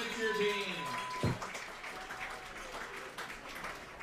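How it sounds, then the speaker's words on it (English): Baseball fans applaud in the stands, a broad wash of clapping that carries on under a public-address announcer's voice. "Fans, keep those hands clapping."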